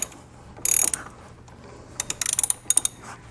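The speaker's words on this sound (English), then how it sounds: "So I'm going to go ahead with a 10mm here, loosen this up." A 10mm ratchet wrench loosens a nut on a vehicle's positive battery terminal: two short bursts of rapid, sharp metallic clicking, close up, with quiet pauses between and no talking.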